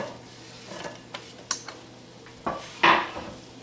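Chopped onion goes into a pan of browned Italian sausage, bringing a few clattering knocks of utensil on pan and a brief sizzling burst, close and otherwise quiet.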